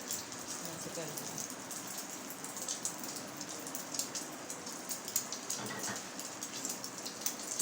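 Beef shami kababs dipped in egg frying gently in oil, giving a soft, steady sizzle with scattered pops and crackles, faint and close, with a voice talking over it.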